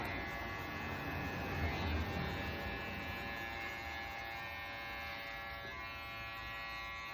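An electric hair trimmer, the Raptor Pro Detailer, runs with a steady, fairly quiet buzzing hum and high whine that holds even throughout, with no talking.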